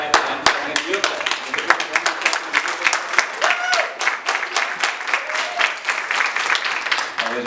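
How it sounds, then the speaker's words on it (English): Audience clapping begins with scattered sharp claps and builds into fuller applause spreading through the crowd, with voices talking over it. "I'm clapping. I'm clapping. You clap."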